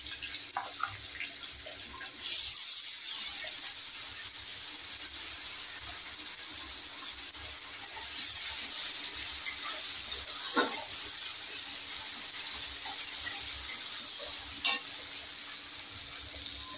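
Ginger paste frying in a pan gives a steady, moderate hiss and sizzle that runs throughout, with occasional faint clinks and scrapes, no one talking.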